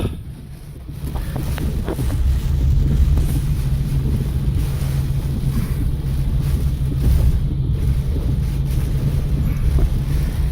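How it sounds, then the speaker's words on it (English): Strong hurricane wind during Hurricane Irma in Royal Palm Beach, a loud, sustained roar buffeting the microphone with a heavy low rumble that swells around two seconds in and keeps blowing steadily, no voices. "a couple of big gusts come in and it almost blows you off your feet"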